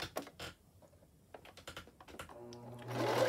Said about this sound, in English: I am going to sew the pieces together, but I am going to sew less than 1/4 of an inch